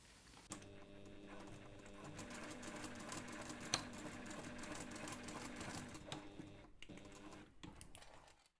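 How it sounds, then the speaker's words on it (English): Sewing machine basting the edges of a webbing strap together for a strap with fabric connectors, running in one long steady whir close by, with a brief pause and restart near the end. "take this to the machine and just baste those two edges together"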